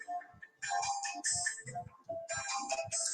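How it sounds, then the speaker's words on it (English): A phone rings indoors with a repeating electronic melodic ringtone, two clear rounds of bright warbling tones separated by a short gap, moderately loud with no voices. "Y'all hear the phone ringing?"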